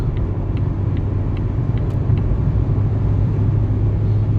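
A Volvo V90 accelerates hard, its engine and road rumble loud and steady from inside the car, with no speech over it.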